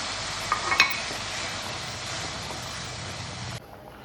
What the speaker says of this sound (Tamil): வெண்டைக்காய் புளிக்குழம்பு நல்லா கொதிச்சிச்சு